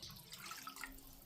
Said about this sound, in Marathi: मग अजून मी अर्धा तांबे पाणी याच्यात ॲड करते.